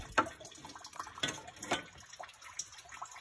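Coolant trickles and drips from the radiator of a Fox Body Mustang, a soft, irregular liquid patter heard close and faint, with no talking.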